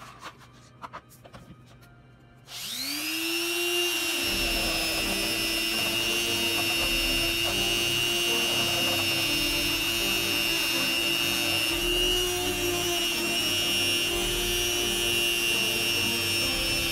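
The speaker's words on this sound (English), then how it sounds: "we will polish it with a buffing wheel." A rotary tool spins a buffing wheel with polish on a 1/64 scale Hot Wheels Nova wagon gasser, starting up after a quiet moment into a steady, loud high-pitched whine that holds throughout with a rubbing edge.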